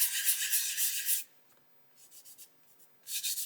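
Quick hand-sanding strokes rasp over a surface coated in VMS No Peel primer. A dense burst of sanding is followed by a few faint short scuffs and then a brief final flurry, close by and alone.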